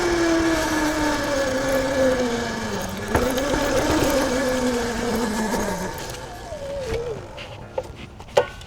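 A 13 kW, 84 V electric dirt bike pitbike whines over rough sandy terrain, its motor pitch sliding down and back up as it rides, with faint rattles and a couple of sharp knocks near the end.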